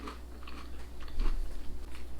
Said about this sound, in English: Now I'm wondering if I should have like just a little bite out of it and then have some cheese, just so we can get the flavor of the cracker.